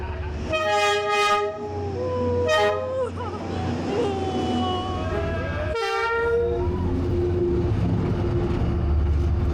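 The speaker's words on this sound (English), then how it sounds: "the train is about to come" A train horn blasts in several long tones over the steady rumble of a passing train in Hanoi, with a closer toot partway through and faint voices underneath.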